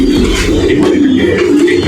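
Many pigeons in a loft of over a hundred pairs coo continuously in a low, throaty chorus, close and loud, filling the whole stretch with overlapping calls.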